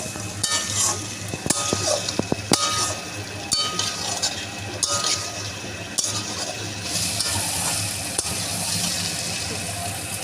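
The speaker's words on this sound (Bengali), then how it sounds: "এবার এই সব কিছু মশলার সাথে ভালো করে মিশিয়ে নেব।" Lentil fritters and spices are stirred in a hot pan, the spoon scraping and clinking against the metal over a constant frying sizzle, with sharp knocks of the utensil now and then.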